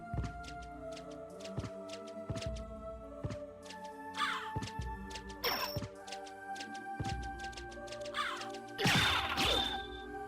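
Birds caw in the game Symphony of the Night: harsh, repeated caws and crashing hits ring out over layered, tonal game music and effects, in uneven bursts.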